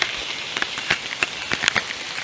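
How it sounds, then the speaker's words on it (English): Rain falls steadily outdoors at a nature preserve in late spring, a constant hiss with scattered louder drops pattering close by, no voices. "it's kind of raining on and off a lot, very hard as well"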